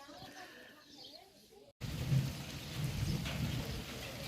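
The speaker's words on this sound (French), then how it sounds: "on a le droit à l'orage et à la pluie" Steady rain and rumbling thunder of an evening thunderstorm over a Spanish village on the Camino Francés, a broad continuous wash that swells loudly after a brief silent gap.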